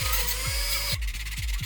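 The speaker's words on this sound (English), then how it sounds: "There's so much sanding, so much dremeling just to get it into the shape you want" A Dremel rotary tool sands a plastic toy blaster part, giving a steady high whine with grinding texture up close, then a shift in tone partway through as the tool bites the workpiece differently.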